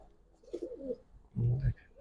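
Giribaz pigeons, a Palla-line pair of old-breed birds, give a short, close, throaty coo that rises over faint background chatter.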